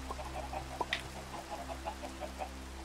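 Chickens cluck softly in short, scattered bursts over a steady low hum, with one slightly louder squawk near the start.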